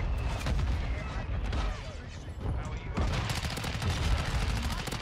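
Rapid shotgun blasts and other gunfire in Modern Warfare 2 multiplayer, a dense run of loud booming shots with a short lull in the middle, under a brief spoken word.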